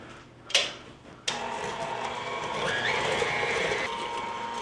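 A stand mixer creams butter in a bowl, giving a steady, close whirring motor drone with a sharp knock near the start before the beater settles into a continuous hum.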